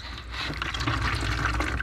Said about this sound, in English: Oh, look at all that water.